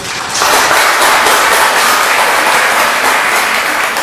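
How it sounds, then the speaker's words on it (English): An audience at the Ford Ice Center gives a quick round of applause for the presidents, dense loud clapping that starts abruptly and holds steady with no voices over it. "Quick round of applause for them, the presidents."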